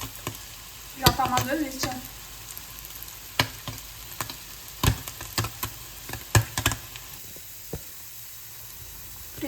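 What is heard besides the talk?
cheese frying in a pan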